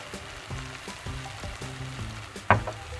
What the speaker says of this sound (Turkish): 1 yemek kaşığı salçamızı ekleyip kavuruyoruz